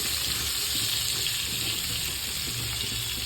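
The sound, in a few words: onions frying in spiced oil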